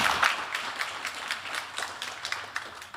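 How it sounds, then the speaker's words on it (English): Audience clapping after a student's art paper presentation at an extended reality animation conference session, soft and uneven hand claps that gradually taper off. "Let's give her a big clap."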